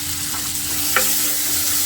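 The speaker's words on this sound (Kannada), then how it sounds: "ಮತ್ತೆ ನೀಟಾಗಿ ಫ್ರೈ ಮಾಡ್ಕೊಳ್ಳಿ. ಇದು ಆನಿಯನ್ ಇನ್ನೂ ನೀಟಾಗೆ ಫ್ರೈ ಆಗಬೇಕು." Onions fry with turmeric in a pan, giving a steady, close sizzle with a single stirring scrape partway through and no talk.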